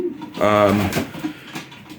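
A short, low pigeon coo sounds in a breeding loft, overlapping with a man's nearby speech that carries on around it.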